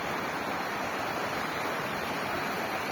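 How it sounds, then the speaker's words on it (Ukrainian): A small stream flows beside an asphalt mountain road on the way to a lake, heard as a steady, even broadband rush with no breaks and no voices. "Збоку тече потічок."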